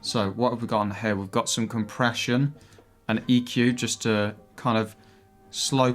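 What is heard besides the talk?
No everyday noise stands out behind the speech.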